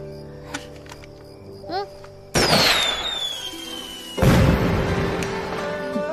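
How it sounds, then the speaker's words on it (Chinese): A signal flare is fired skyward in a historical costume drama scene. A faint whistle is followed by a loud burst with a long, falling screech, then a second sharp blast and crackling decay. "这是信号弹，是求救时报位置用的。"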